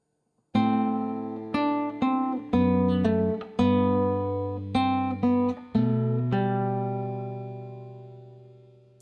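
Solo guitar plays measures 13 and 14 of Minuet in G in a slow, steady run of about a dozen plucked notes over sustained low bass notes, close and resonant, the final note ringing out.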